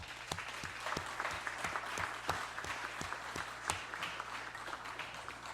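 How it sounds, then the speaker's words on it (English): A legislative session applauds a retiring colleague: steady, moderately distant clapping from a room of people that holds at an even level throughout, with no speech over it. "if I can ask that we give him a big round of applause"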